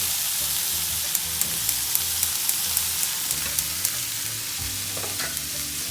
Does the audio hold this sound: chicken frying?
yes